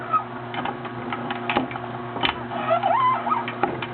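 A juicer machine grinds Swiss chard with a steady mechanical hum, rapid ticking clicks and brief squeaky whines from the motor, close and fairly loud, with no talking.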